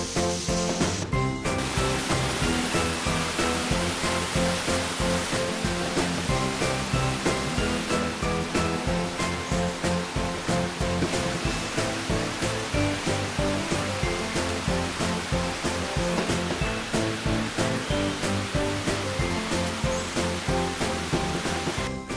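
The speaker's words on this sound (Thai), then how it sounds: "แต่ละฐานนี่จะอยู่เหนือน้ำตกจะเล่นผ่านน้ำตกไปหมด" A waterfall at Rai Kusuma resort in Muak Lek, Saraburi, sends out a steady, continuous roar of rushing water that fills the whole stretch without pause.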